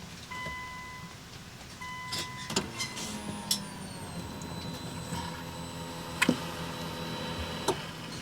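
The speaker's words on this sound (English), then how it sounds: "See if we can hear the fuel pump." A Nissan Skyline R34, not started in five years, primes its fuel pump with a faint steady whine, overlaid with scattered clicks and ticks and a few sharper knocks, with no talking.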